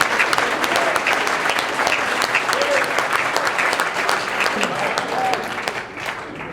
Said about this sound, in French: Des acclamations, des acclamations, des acclamations